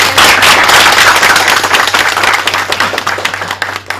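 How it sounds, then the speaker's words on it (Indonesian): Loud, close applause from a studio audience of university students, a burst of dense clapping that gradually thins toward the end, with a low steady hum beneath. "tepuk tangannya mana?"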